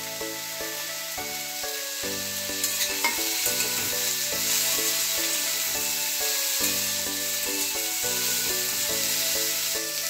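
Chopped cauliflower frying in a pan for samosa filling, a steady close sizzle running the whole time beneath a bright, repeating musical backing, with no talk.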